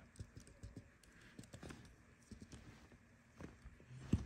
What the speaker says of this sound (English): I'm gonna have to type with one hand.